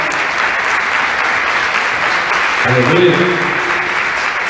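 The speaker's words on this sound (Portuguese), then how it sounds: "Vamos bater uma salva de palmas para esses irmãos?" A church congregation claps in sustained, even applause, and partway through a man begins preaching over the clapping.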